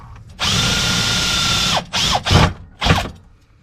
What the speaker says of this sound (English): Now we got to center punch it and drill our hole somewhere here.